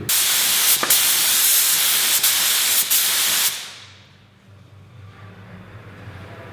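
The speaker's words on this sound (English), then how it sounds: "I'll be spraying the blue on this spray card" A steady, loud hiss of a spray gun blasting blue paint onto a spray card for several seconds with brief sputters, then cutting off to quiet room tone.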